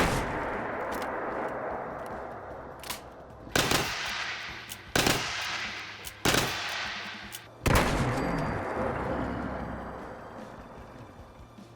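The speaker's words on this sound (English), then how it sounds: "after 11 shots, that Deathclaw is finally down" PRL 8 shotgun blasts aimed at a Deathclaw in Fallout 4: a run of sharp, loud reports, several heavy booms spaced a second or so apart after lighter pops, each trailing off into a rumbling decay.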